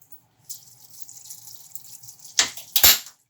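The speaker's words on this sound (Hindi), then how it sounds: "उसके बाद डाल दिया पानी।" Water pours into a cooking pot holding 1 kg of beef pieces and chana dal, a steady running trickle with two louder splashing gushes near the end, close and alone.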